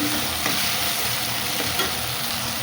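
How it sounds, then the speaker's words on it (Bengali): Spice paste fries in hot oil for a vegetarian biryani, a dense continuous sizzle with soft stirring scrapes, close and steady with no talking. "মশলাটা এবার আমার ভাজা হয়ে গেছে, পুরো তেল ছেড়ে দিয়েছে চারিদিকে।"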